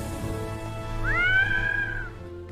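A cartoon cat gives a single clear, rising-and-falling meow lasting about a second, sounding close over a quiet background.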